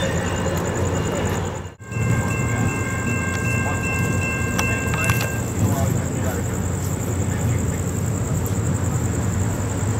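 A CSX freight train passes close by on the tracks with a loud, continuous rumble and rail noise. A high tone runs through it, and a brief whistle-like horn sounds in the middle.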